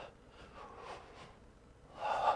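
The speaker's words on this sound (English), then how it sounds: "Breathing in deep." Deep audible breath drawn in during a yoga session, a soft airy inhale that builds and swells louder toward the end, close to the mic with no talking.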